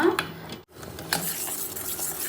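Soap melting in a bowl set over boiling water is stirred with a utensil, giving steady scraping and swishing strokes with a faint bubbling hiss underneath and one brief pause.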